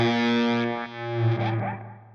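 A single sustained fuzz guitar note from a Crazy Fuzz setting rings out thick and distorted, washed in reverb and delay that smear its tail as it slowly decays.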